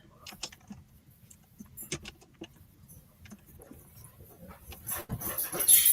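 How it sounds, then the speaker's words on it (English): Fast, uneven clicking of keys being typed on a computer keyboard, close by and fairly quiet, with a few louder taps toward the end and no talking. "Let me type the link in the chat."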